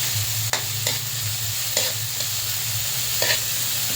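Ingredients sizzle loudly in a hot pan under constant frying hiss while a utensil stirs them, scraping and clacking against the pan every second or so, close up with no voices.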